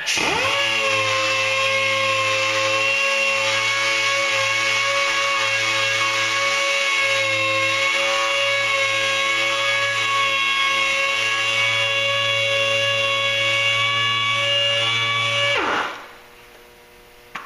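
An orbital sander with a 2000 grit pad wet sands clear coat on a hearse, whining at a steady loud pitch for about fifteen seconds before spinning down and stopping.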